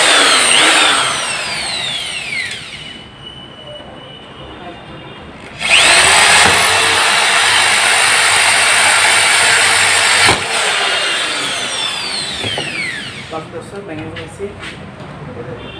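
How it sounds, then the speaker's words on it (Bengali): A power drill boring a hole in a stove stand during a repair: a loud, steady whine that starts, stops and restarts with changing pitch, close up, with background noise between the runs. "উপর থেকে ছিদ্র করে ফেলবো"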